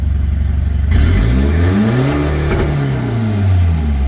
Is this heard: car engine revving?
yes